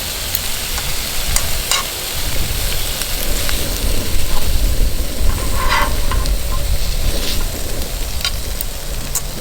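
Pastalaya sizzles loudly in a pan over a camp cooking fire, a steady dense frying hiss with occasional stirring scrapes and clinks from stainless steel tongs throughout.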